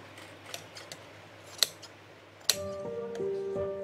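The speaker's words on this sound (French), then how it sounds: "Passe-moi les ciseaux." Scissors snip in a small sewing workshop, several light clicks and cuts coming close and moderately loud before a steady hum of background sound takes over.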